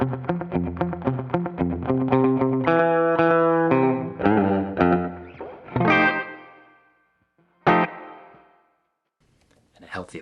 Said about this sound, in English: Running that mono tape delay into the front of our amp, which is a deluxe reverb on the normal channel.